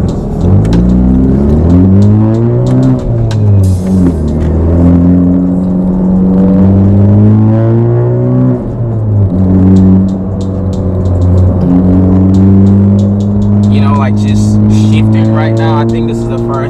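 Honda Civic Type R FK8 engine heard from inside the cabin while driving, a steady loud drone with rising and falling pitch as the revs climb and shift through gears, continuous throughout.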